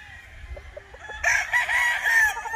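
A Sweater gamefowl rooster lets out a loud, close crow that starts partway through and carries on to the end, with only faint background sounds before it.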